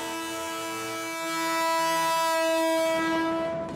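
Korean high-speed train travelling, a loud sustained rush with strong tonal horn-like harmonics that swell in the middle and fade slightly toward the end, heard alone without talk.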